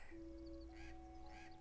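A black crow caws twice in the 2001 horror film Jeepers Creepers, each call a short harsh burst over a steady sustained tone and low background rumble.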